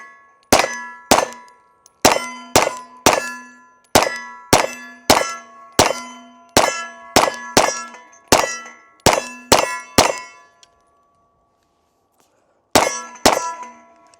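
A Glock 19X pistol firing 115 grain rounds sends sharp, loud pings off steel targets in quick strings of shots, then a few seconds of quiet before two more hits ring out.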